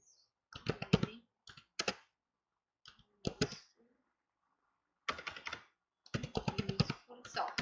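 Typing on a computer keyboard produces quick clusters of close, crisp key clicks in several short bursts separated by pauses, fairly quiet overall.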